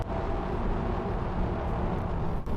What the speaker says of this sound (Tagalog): Ang monotonong ugong ng Jupiter.